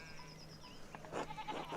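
Sheep bleat in the medieval video game Pentiment, a couple of short, faint, nasal calls over a quiet background.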